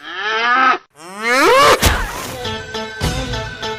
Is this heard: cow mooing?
yes